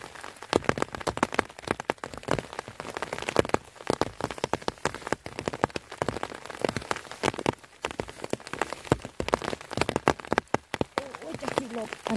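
Rain falling outdoors in cold weather of about 6 degrees while mushrooms are picked, a steady dense patter of drops on surfaces that stays loud and continuous, with people talking throughout.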